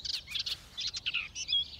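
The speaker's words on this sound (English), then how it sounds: "Sing now, birdie, sing the song." Cartoon songbirds chirping and twittering in quick, bright bursts, several short calls overlapping at close range with no talking.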